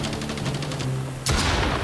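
Video game shotgun blast in a War of the Worlds scenario: a sharp, loud boom arrives near the end and cuts across a rhythmic pulsing background.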